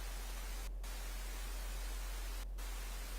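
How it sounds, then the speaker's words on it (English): Steady white noise used as a livestream background, even hiss with a low hum beneath, cut by two very brief dropouts. "It does sound a little bit like ASMR rain sounds, but no, it's just white noise for the sidebar here."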